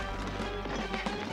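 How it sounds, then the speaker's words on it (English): Cartoon marching footsteps that clank like tin cans in an animated G.I. Joe episode, a dense, rapid, rhythmic clatter of metallic steps filling the whole short moment. "Sounds like marching tin cans."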